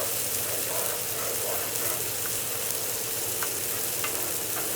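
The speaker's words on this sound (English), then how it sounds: "make sure I stir that pasta" Pasta boiling in a pot is stirred with a spoon, a dense bubbling sizzle with light scraping clicks against the pot, steady and close with no one talking.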